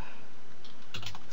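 A short run of typing on a computer keyboard while entering dimensions for a drawing, a few quick key clicks close by with a slightly firmer press near the end.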